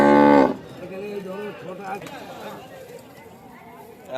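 Cattle at a village cow market in Joynagar, a deep loud moo at the start, then people chatting and talking nearby over the animals.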